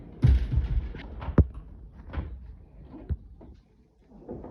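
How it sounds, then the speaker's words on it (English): A half door in a tiny house on wheels swings open outward with a series of close wooden knocks, thuds and a sharp latch click, followed by softer handling noises in a quiet room. "This is a half door which opens out."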